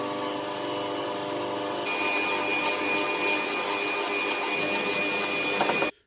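Electric mixer whipping eggs and sugar into a pale cake batter for a Bienenstich: a steady, loud motor whir that shifts up in pitch after about two seconds, then cuts off at the end, with no talking.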